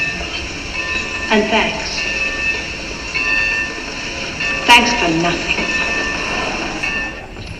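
A train running on rails rumbles steadily beneath the scene, with rolling wheel noise and squealing metallic tones nearby while people talk over it.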